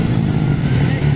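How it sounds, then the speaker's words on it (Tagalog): Underbone motorcycle engine revving hard during an open-class race in Salawagan, Sta. Rita, Quezon, Bukidnon, a steady loud buzzing drone with a voice talking over it. "Grabe ka mga power gyapon ning mga underbone no."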